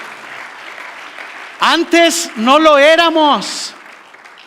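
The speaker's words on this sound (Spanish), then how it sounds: "Denle un fuerte aplauso al Señor" A church congregation applauds in a sustained, fairly faint wash of clapping at first, then a preacher's voice comes in over the fading applause.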